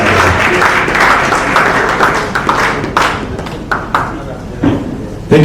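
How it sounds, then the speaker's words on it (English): An audience at an awards and honors ceremony in Lagos claps in a dense, loud burst that thins into scattered claps and thumps over several seconds. "Please, a round of applause for Pastor Benson Ndakara"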